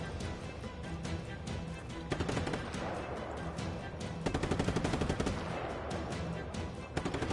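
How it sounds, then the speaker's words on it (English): Rapid automatic gunfire in the open-world shooter Just Cause 3, bursts of machine-gun shots crackling in fast repeating volleys that grow louder partway through, with no talk over them. "Whoever's shooting at me sucks at aiming."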